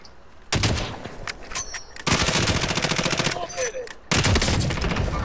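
Loud automatic gunfire in a squad-based online shooter game, arriving as three dense bursts of rapid shots separated by brief gaps, with faint voices underneath.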